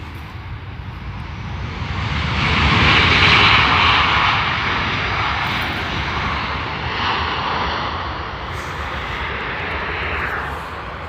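An Emirates Boeing 777 airliner on approach at Stansted Airport, a loud broad engine roar swelling over a few seconds then holding steady as it passes fairly close.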